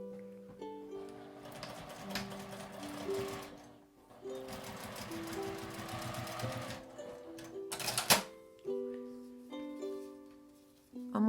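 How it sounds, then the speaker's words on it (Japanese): A household sewing machine stitches two layers of cloth folded in half for a small IC card pouch, giving quiet bursts of rapid mechanical clatter that start and stop several times, with a sharp clunk near the end. "半分に折った布を合わせて1センチ縫います"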